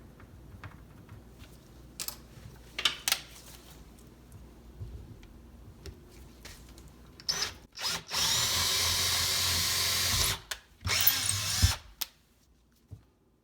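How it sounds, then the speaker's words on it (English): A power drill whirs in short bursts, then a longer sustained run as it bores knob holes into a wooden cabinet door, with clicks and handling noise between runs. "press in, get that drill bit sunk a slight bit into the wood."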